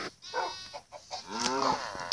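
Sheep in Minecraft bleat in short wavering calls, with several overlapping bleats at close range, moderately loud and layered over faint background ambience.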